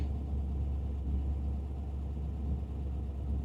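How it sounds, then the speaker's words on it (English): A 1956 Ford Thunderbird hardtop with a possible cherry bomb or very small muffler idles steadily, a deep, even rumble heard close up with no talk. "It's got a nice muscle car sound to it"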